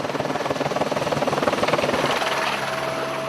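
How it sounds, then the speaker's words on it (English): A police helicopter searches for a missing hunter over thick bush and rough river-valley terrain. The rotor makes a steady rhythmic chop close overhead over a loud, continuous engine roar, with no speech. "They manoeuvre the chopper closer and identify the missing hunter"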